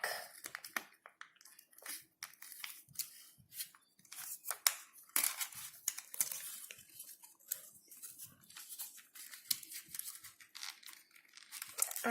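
Paper being folded and creased into an origami butterfly, close crisp crinkles, rustles and sharp creasing snaps in irregular bursts, with no talking.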